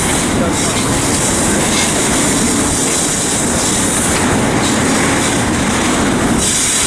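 A CSX freight train, unit 17, rolls past at close range: a loud, continuous roar of wheels and rail clatter with a brief squeal, filling the whole stretch without pause.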